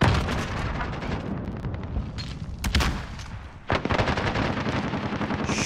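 Loud, rapid automatic gunfire from a heavy-recoil gun in the Warzone video game, fired in dense continuous bursts with a short break before resuming at full intensity.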